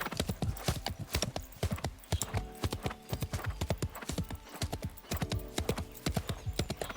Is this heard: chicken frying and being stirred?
no